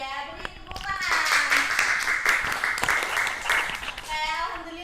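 Students in a classroom clap together in response to a correct answer, a steady dense patter of many hands lasting several seconds, with some children's voices mixed in near the start and end.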